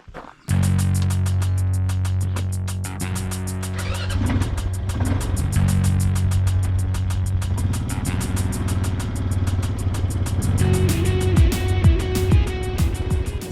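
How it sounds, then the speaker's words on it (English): ATV started and ridden through the bush, with a sudden engine start followed by a loud, steady mid-pitched engine drone that rises and shifts pitch as it gets going, continuing throughout. "let's jump on the ATV and we'll have a quick ride down there"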